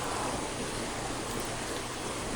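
Salvosa Falls waterfall in Davao de Oro, a steady, dense rush of falling water, continuous and even-level, with no voices.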